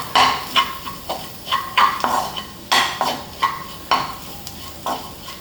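Chicken sautéing in a pan with crushed chilli flakes, a spoon scraping and stirring in repeated strokes about twice a second, with a soft sizzle underneath, close and fairly loud.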